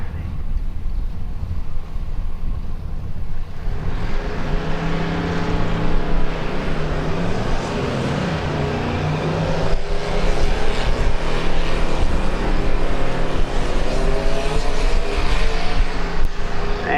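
A turbocharged S10 drag truck at a Midwest Drags event roars down the strip with a loud, sustained engine and wind-rushing noise that builds for the whole stretch.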